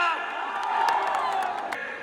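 A crowd at a fan meet with film star Dev in Berhampore whoops and cheers loudly, a sustained roar with brief sharp shouts rising above it.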